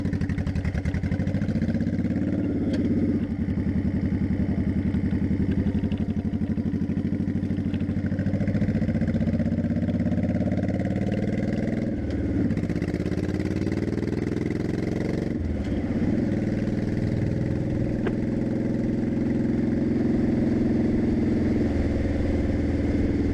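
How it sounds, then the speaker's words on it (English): A 2002 Honda Shadow 1100 motorcycle, fitted with a carb kit, cruises steadily on a highway. Its engine throbs low and continuously close by for the whole stretch, with wind noise on top and brief shifts in pitch. "let's take it out on the highway. You can hear what it sounds like when it runs."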